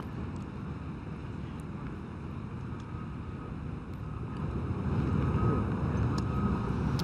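Steady wind buffets across a golf course at the Qatar Masters, a broad rumbling roar that grows louder toward the end, with no one speaking.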